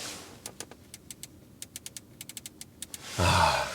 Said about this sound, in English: Click, click, click from the Audi Sound Laboratory